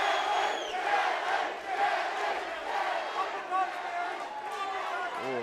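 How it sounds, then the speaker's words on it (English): Fight-night crowd at a Chosen Few Fighting Championship bout chanting a fighter's name, a dense rhythmic roar of many voices filling the arena throughout, with commentary talk mixed in. "the crowd chanting Devon Seitz' name"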